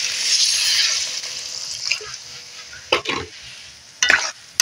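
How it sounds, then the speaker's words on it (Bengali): Greens and potatoes sizzle loudly in a pan for a clam and tela kucho shak curry; the hiss fades as water is added, then a few sharp scraping stirs come at irregular intervals. "শাক বা আলু সমস্ত জিনিসগুলো নাড়াচাড়া করা হয়ে গেছে, দিয়ে দেব জল"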